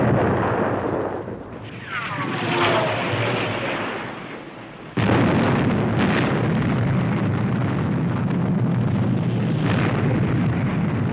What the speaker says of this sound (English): Missile ejector on target. 5 miles. Firing now. Contact.